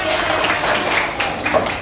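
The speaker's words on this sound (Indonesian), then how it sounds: "tepuk tangan untuk kita semua" A crowd claps together in a steady burst of applause, fairly close and loud, lasting a couple of seconds.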